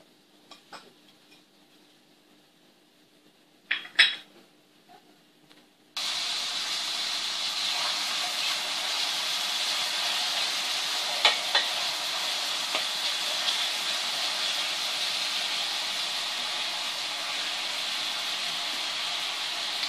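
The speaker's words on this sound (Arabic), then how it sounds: "وغادي ندير الزيت، نستنى عليه تيسخن. عاد ندير البصله" Chopped onion hits hot oil in a pan and sizzles with a steady, loud hiss that continues unbroken after a few faint clinks of utensils, with no talking.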